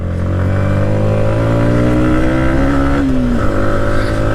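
A motorcycle engine labors up a steep mountain road in Rangamati, Bangladesh, a loud, close, steady drone with a rising pitch that dips and shifts near the end as the load changes, with no talk over it.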